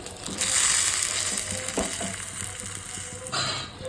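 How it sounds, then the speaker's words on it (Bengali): Lentil fritters (bora) frying in hot rice bran oil give a steady, fairly loud sizzle, broken by a few short scraping and clinking handling noises, with no talk over it. "বড়াটা কিন্তু ভাজছি আমি এই যে সাদা তেলে সাদা বলতে রাইস ব্র্যান্ড অয়েল"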